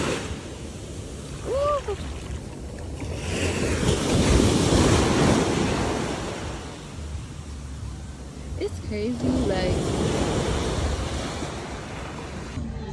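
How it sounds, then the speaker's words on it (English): Ocean surf on a Jamaican coast at Montego Bay after rain, waves rolling and washing in a broad roar that swells and eases, mixed with wind buffeting the microphone while people talk briefly. "we're trying to visit the ocean"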